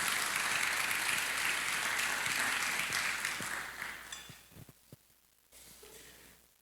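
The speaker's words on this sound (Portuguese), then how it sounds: "Aplauda bem forte a palavra de Deus." A church congregation gives strong applause during a sermon, a dense wash of clapping that fades out over several seconds, leaving scattered single claps and a few faint sounds at the end.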